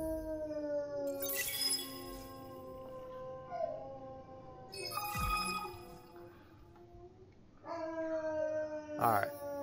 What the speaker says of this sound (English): my dogs are going crazy because they hear sirens